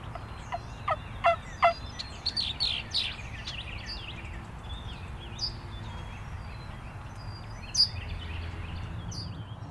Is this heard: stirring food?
no